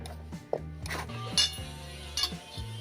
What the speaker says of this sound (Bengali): বন্ধুরা, কড়াইটা বসিয়ে দিলাম।